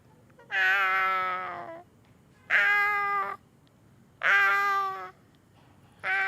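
A person imitates a cat, giving four drawn-out meows at an even pace with quiet pauses between them, clear and close with no other voices.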